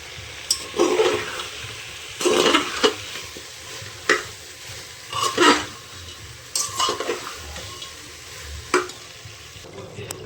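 Potato and pumpkin curry with salt being stir-fried in a pan, with repeated bursts of spatula scraping and stirring over a low sizzle, close and distinct.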